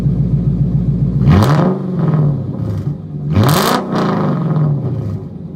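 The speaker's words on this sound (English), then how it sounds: "these V8s sound amazing" A Lexus LS 460 long-wheelbase sedan with a big V8 is revved twice, each blip rising sharply and falling back to a deep idle, loud and close.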